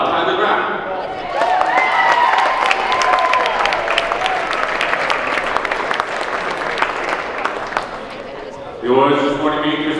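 An audience at a girls' basketball tournament awards ceremony breaks into loud, sustained applause and cheering in a gym, with an announcer's voice over the crowd before the clapping fades.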